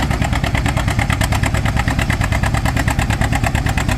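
An antique tractor pulls at a tractor pull with lowered hitch, regular tires and reduced RPM, its engine throbbing in a quick, steady pulsing rhythm, close and loud.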